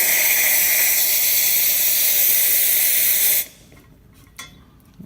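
An Andreja espresso machine steam wand lets out a loud, steady hiss of steam for about three and a half seconds, then cuts off abruptly into quiet with a few faint knocks.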